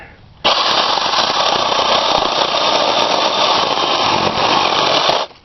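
A rechargeable mini chainsaw with a 6-inch blade revs up abruptly and cuts steadily for about five seconds, a loud, close, buzzing motor whine that cuts off sharply at the end.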